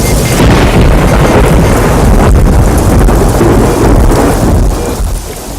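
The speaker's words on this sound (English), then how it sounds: "It's raining heavily" Heavy rain pours down in a dense, loud, continuous roar, with no voices.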